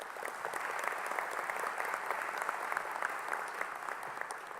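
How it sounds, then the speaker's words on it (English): An audience at a peace convention in Paraguay applauds steadily, the clapping even and moderately distant throughout. "Could we give him a round of applause?"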